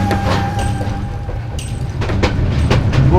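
Inside the Jamuna Express running from Mymensingh toward Gafargaon, a loud steady rumble of the moving train fills the carriage, with rattling clicks and scattered clatter over the low roar.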